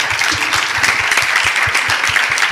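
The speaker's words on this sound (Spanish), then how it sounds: "le vamos a dar un aplauso muy cariñoso a Antonio" Audience applause fills a hall after a conversation on medicine in painting with Antonio López. The clapping is dense, steady and loud.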